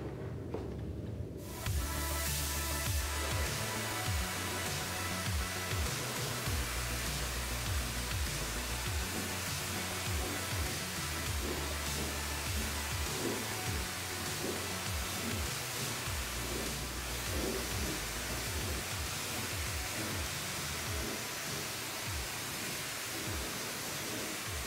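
A DeVilbiss DV1 spray gun lays clear coat on an automotive panel at 25 psi, giving a steady, unbroken hiss of air and atomised paint that starts abruptly and holds constant throughout.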